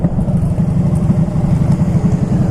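A 2011 Harley-Davidson Fat Boy Low, a roughly 1500cc motorcycle, rumbles loud and close on a test ride, its deep engine note pulsing steadily throughout.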